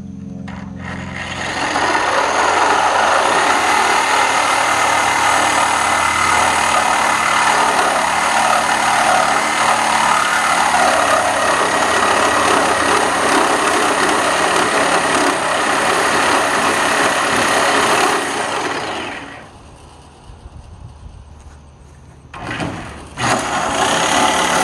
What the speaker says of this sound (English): I think I'm actually going to try the Sawzall.